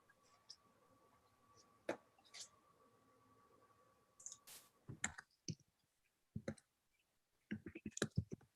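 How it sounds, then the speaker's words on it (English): Light clicking of keys on a computer keyboard in a quiet meeting room, with sparse irregular taps and short bursts, faint and at a distance with no talk over it. "I saw Neil typing away there in the background."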